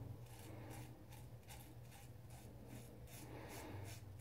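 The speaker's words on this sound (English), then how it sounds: "It sounds like a scratching sound. Uh-huh. That's the hair getting cut off." A 3D-printed razor scratches through hair in quick repeated rasping strokes, close but faint, with a low hum underneath.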